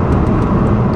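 BMW 760Li V12 limousine accelerating hard, a loud continuous engine roar from inside the car.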